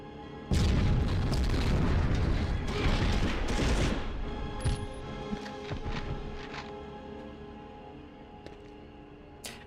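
A booming explosion in the 1999 video game Medal of Honor erupts loudly, then rumbles and crackles with debris for several seconds before fading into quieter game ambience with a few faint clicks.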